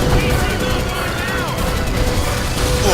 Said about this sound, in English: Gunfire, get it on the bridge.